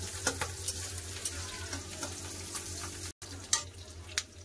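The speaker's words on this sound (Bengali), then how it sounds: "ভালো করে ভেজে নেব। दो থেকে 3 মিনিট মতন ভেজে নেব।" Two medium-size onions frying in a pan for matar paneer, a soft, steady sizzle that runs throughout with faint clicks and small crackles, quiet and close, with no talking.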